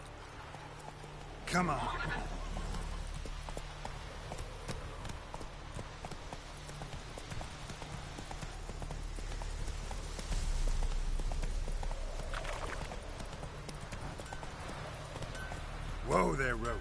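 Hooves of a horse clip-clop in a steady trotting rhythm in The Witcher 3 video game, with a brief neigh or snort and light ambient rain, while someone speaks briefly over it.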